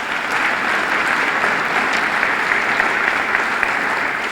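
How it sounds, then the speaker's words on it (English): An audience at a county address in a hall claps steadily and loudly for several seconds, a dense, even wash of applause with no break. "If you could give them a round of applause."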